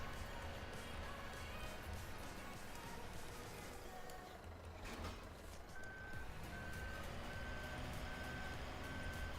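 A truck in Farming Simulator sounds steady reversing beeps over a constant engine drone, the evenly spaced tones starting midway and running to the end, with faint game noise around them.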